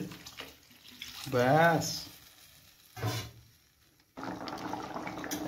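Water pours into a kadai for boiling taro roots before rohu fish goes in, a brief rushing splash near the end following a few words of speech and quiet kitchen noise.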